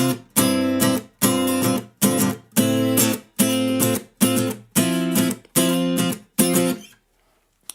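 Electric guitar strums the chorus of a song in eight loud, evenly spaced chord stabs, each cut short by muting, followed by a brief silence.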